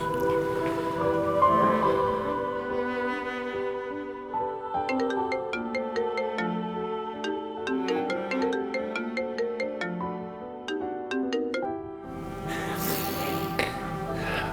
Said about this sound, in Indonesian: Coba saya telepon Al dulu.